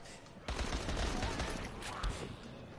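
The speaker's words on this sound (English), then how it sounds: "Let's try out the SMG." Rapid SMG fire in Dying Light, a quick burst of shots starting abruptly and continuing for a couple of seconds before trailing off, fairly close and loud.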